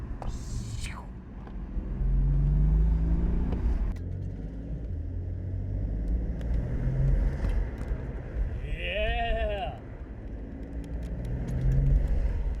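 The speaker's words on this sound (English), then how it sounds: "I can hear this intake noise." BMW M4 fitted with an Eventuri intake driving through a tunnel, its engine rumbling and rising under acceleration with intake noise, while a voice exclaims briefly over it.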